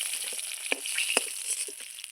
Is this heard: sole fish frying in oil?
yes